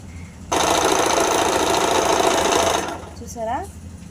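Close, loud burst of a sewing machine running a zigzag stitch for about two seconds. It stops abruptly, and a voice follows.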